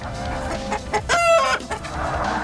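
A chicken crowing sound effect played during a Forza Motorsport (2005) livestream, a single loud, close cock-a-doodle-doo with clucking around it.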